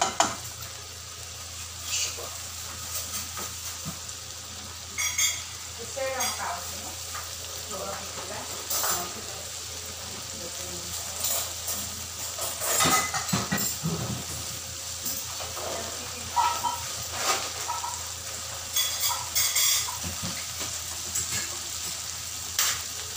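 Sardines fry in a pan over a soft, steady sizzle, broken by repeated scrapes and clicks from a spatula stirring them, fairly quiet and close.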